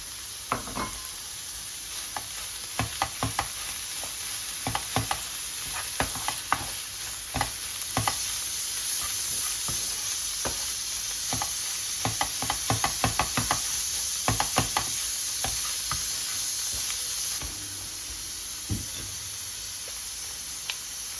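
Medium-fat minced meat fries in a pan with a steady sizzle while a utensil stirs it, sending out clusters of sharp scraping knocks against the pan, close and with no talking.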